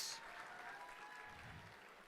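Gala guests clap for auction bidders who pledged $2,500, a faint, steady patter of applause from a room crowd, with a quiet voice or tone briefly audible beneath it.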